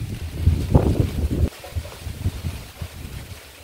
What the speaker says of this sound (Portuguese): O vento tá jogando o pé da goiaba.